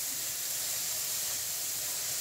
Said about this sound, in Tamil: இந்த பீர்க்கங்காய் நல்லா கலர், தோல் கலர் மாறுற வரைக்கும் வதக்கிக்கோங்க.